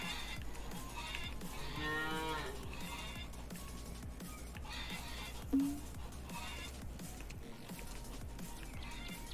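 Several cows low in the farm game Lumberjack's Dynasty with gritty, crunchy-sounding moos. One longer call rises early, with quieter calls and a brief bump later over a soft background, and a voice speaks briefly.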